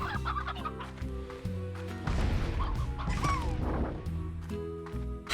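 Clucking chickens in the video game Slime Rancher, a few squawks over steady game music with thuds and clatter mixed in.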